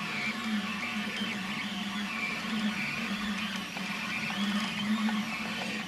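A 3D printer with a modified print head runs continuously on a large piece, giving a low, steady mechanical hum with faint warbling stepper-motor whines and a constant background drone.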